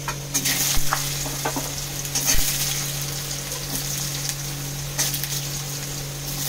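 Potatoes fry in hot oil seasoned with bay leaf, radhuni, fenugreek and mustard seed, producing a steady close sizzle with scattered scraping stirs and a few clinks of the spatula against the pan.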